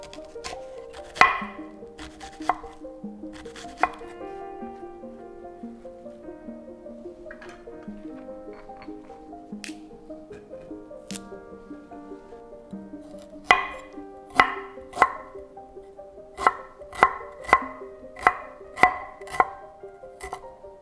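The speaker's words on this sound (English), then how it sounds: "we're going to start by dicing the onions and making a ginger garlic paste" Onions being diced with a knife on a cutting board, sharp chopping strikes at first sparse and then in a quick steady rhythm later, with no talking.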